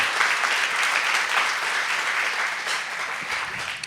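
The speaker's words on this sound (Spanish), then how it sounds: "Den un aplauso con ganas al Señor, hermano." A church congregation bursts into loud, sustained applause during a service, dense clapping from many hands filling the room steadily for several seconds without a break.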